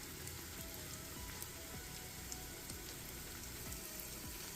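Chunky onions frying in a pan for a coconut karela curry give a faint, steady sizzle and crackle with scattered tiny pops, heard alone and close.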